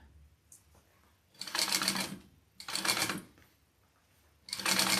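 A sewing machine bastes a 1.5-inch webbing handle onto a small Mini Scout bag in three short, loud, buzzing stitching bursts separated by quiet pauses, close up and without talk.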